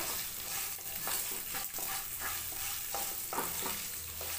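Ginger pieces and dried red chillies fry in hot oil in a pan. A steady, soft sizzle carries intermittent scraping stir strokes.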